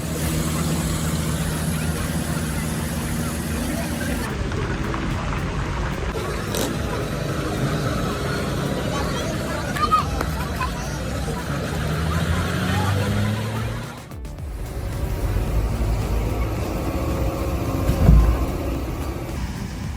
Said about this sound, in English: The vibrant red tractor truck powerfully navigates through the bustling, narrow streets of the town.